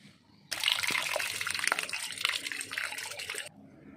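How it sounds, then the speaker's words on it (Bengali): Rice, red lentils and mung beans being washed by hand in water, a burst of sloshing and swishing lasting about three seconds, fairly close and alone, with quiet lulls before and after. "এই চাল, মসুর ডাল, এই ডাল এবং মুগের ডাল সব নিয়ে একটু ভালো করে ধুয়ে নেব"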